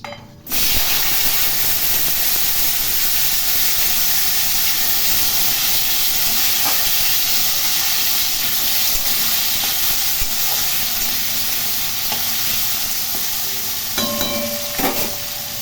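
Small potato pieces fry in hot oil in a wok with dried red chillies and bay leaves, giving a loud, continuous sizzling hiss with faint occasional clinks near the end.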